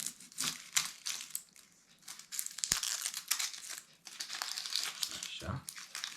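A knife cuts the stalk off an onion; dry papery crinkling and crackling of onion skin comes close up with a few sharp snaps, and a voice speaks at moments.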